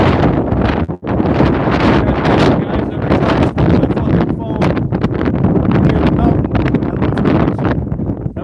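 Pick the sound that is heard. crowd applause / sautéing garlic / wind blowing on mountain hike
wind blowing on mountain hike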